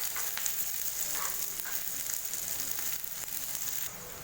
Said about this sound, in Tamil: வெங்காயமும் பூண்டும் பார்த்திங்கன்னா நல்லா கோல்டன் ப்ரௌன் கலர் அளவுக்கு நல்லா வதங்கியிருக்கு.